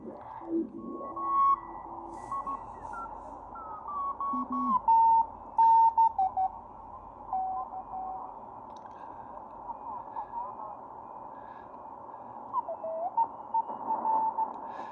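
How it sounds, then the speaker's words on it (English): Faint Morse code tones beep in short rhythmic bursts through a bandpass filter on a Drake R4A receiver, over a low hiss of radio static, with a second weaker tone drifting in the background. "that will pretty much get rid of everything but your CW signal"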